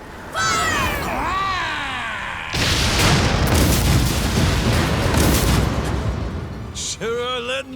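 Ship cannons in the game Like a Dragon: Pirate Yakuza, a dense roaring barrage of booming blasts rolling on for several seconds, loud and close, framed by brief game sound effects and shouted voices.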